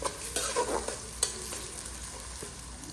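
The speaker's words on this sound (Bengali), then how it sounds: "তো বন্ধুরা যে একটু কালার করে ভাজে নিছি পেস্টগুলা" Spice paste fries in a pan while a spoon stirs it, giving a steady close sizzle with a few sharper scraping bursts and no talking.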